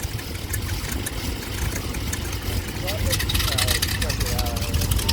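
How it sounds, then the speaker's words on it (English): A 220 horsepower Continental engine on a vintage airplane idles at an airshow, a steady mid-pitched rumble running beneath someone talking nearby, growing slightly louder partway through. "Clear on this one, another 220 horsepower engine."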